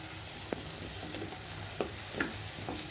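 Drumstick curry bubbling in a pan while being stirred, a quiet steady simmering hiss broken by a few soft clinks and scrapes of a spoon against the pan.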